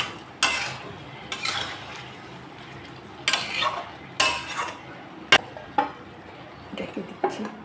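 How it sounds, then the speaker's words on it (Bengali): Prawns are stir-fried with spices and oil in a pan, a spatula scraping and clinking against the metal in irregular bursts over a low, steady sizzle, with no talking. "মাছগুলোকেও আমি মশলার সাথে কষিয়ে নেব"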